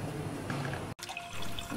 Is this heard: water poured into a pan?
yes